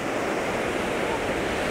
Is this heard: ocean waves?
yes